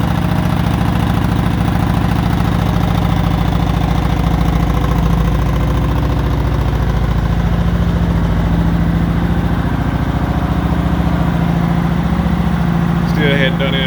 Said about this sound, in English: got a little bit more of a rumble to it than the stock muffler had on it